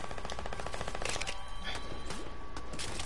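Submachine gun fire in a video game, a loud sustained burst of rapid automatic shots with a brief break and further rattling, dense and continuous throughout.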